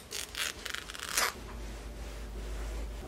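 Sharp fabric scissors snip the hanging loops and tags off kitchen towels, a few quick close rasping cuts in the first second and a half, followed by a quiet low hum.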